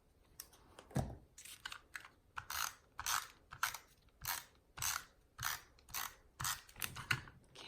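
A narrow strip of paper is trimmed for a handmade Christmas card, about a dozen crisp, evenly spaced slicing strokes, close and dry, with no talking.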